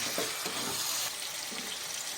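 Chicken and tomato pieces frying in a pan, a dense steady sizzle close by with a few soft scraping strokes of a spoon stirring through it.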